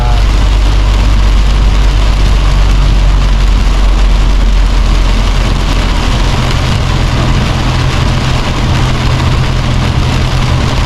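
Heavy rain beats on a moving car in Fang, Thailand, a loud, dense and steady hiss over the low hum of the engine, with no talk.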